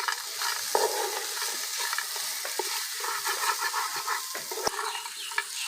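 Chopped green chillies and peanuts being stir-fried in a pan for a vegetable chop filling, with a continuous loud sizzle and occasional spatula scrapes and knocks, close up with no voices.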